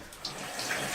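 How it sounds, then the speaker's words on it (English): Tap water runs steadily from a faucet to rinse bleach out of hair knots on a wig frontal, a continuous close hiss and splash at moderate volume. "Once you put the water on"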